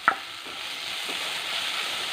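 Tomato sautéing in a hot pan for an egg masala kozhukatta, with a soft continuous sizzle after a brief opening clink, steady and close with no voices.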